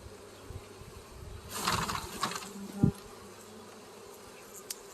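Honeybees buzz as the last cluster is shaken loose over the hive they came from, a brief rising swarm of buzzing around a couple of knocks and thumps, fairly faint and close, with no talking.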